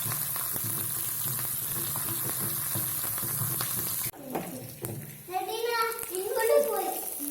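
Curry leaves and dried red chilies drop into hot oil for a tempering, giving a steady crackling sizzle that cuts off abruptly, after which a voice chatters over faint kitchen clatter.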